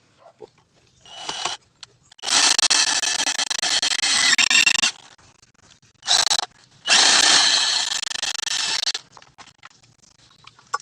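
A power drill boring a hole for a bolt in a DIY starter ground repair on a Suzuki, giving two loud sustained whining bursts with short starts and pauses between them, close by with no talk.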